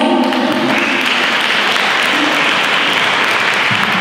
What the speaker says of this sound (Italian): Un applauso a tutti voi